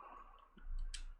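Controller button clicks while entering text on a PS4 on-screen keyboard, a few soft, close taps with a brighter click near the end over low room hum.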